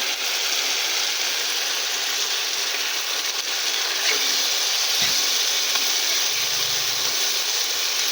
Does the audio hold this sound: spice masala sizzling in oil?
yes